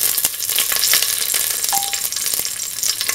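Raisins fry in a pot with a continuous bright sizzle and crackle, punctuated by small pops and stirring scrapes, close and steady.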